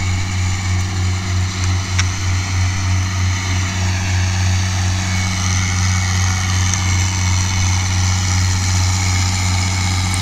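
A heavy engine idles with a steady low rumble and a slight rhythmic throb, loud and constant throughout with no voices.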